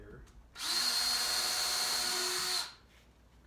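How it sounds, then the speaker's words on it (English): A power drill bores a hole for garage pegboard, a steady high whine about two seconds long that starts and stops abruptly with quiet room tone on either side. "So drill a hole here."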